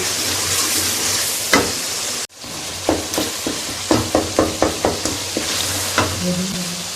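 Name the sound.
masala with tomatoes being stirred and fried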